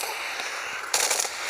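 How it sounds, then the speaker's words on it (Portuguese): Gunfire in a zombie video game, a burst of rapid, crackling shots over a steady hiss of game noise, loud and close with no voices. "Você quer atirar uma bala"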